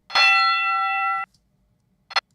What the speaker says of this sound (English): There's that bell again. It's really loud.